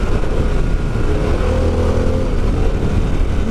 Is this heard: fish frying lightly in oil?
no